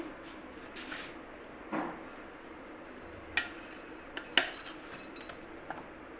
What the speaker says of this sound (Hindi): अब हम इनको निकाल लेंगे प्लेट में।